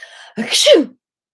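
A person vocally imitates a sneeze, a single short burst with a breathy onset and a sharp rising-falling cry, loud and close after a faint murmur.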